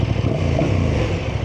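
A KTM 1290 Super Adventure S motorcycle engine drops in revs, giving a close, loud, rough rumble with a slight clatter over a brief stretch.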